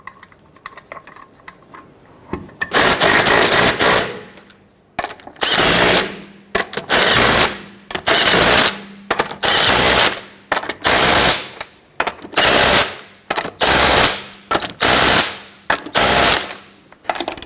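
Lug nuts on a 1999-2004 Jeep Grand Cherokee wheel snugged down with a power impact tool, loud repeated rattling bursts of about a second each, separated by short pauses, close by with no talking.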